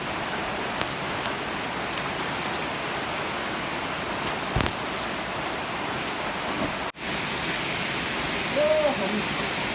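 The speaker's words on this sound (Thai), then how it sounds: "โอ้ยฝนแรงครับ" Heavy rain falls in a steady, dense hiss that fills the whole stretch, broken by one brief dropout, with a faint voice now and then underneath.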